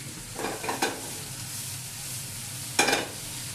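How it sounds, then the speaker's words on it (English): Wild mushrooms sizzle steadily in a frying pan, broken by a few short scraping stirs, with no voices. "Now those mushrooms are breaking down. You can hear them really starting to sizzle"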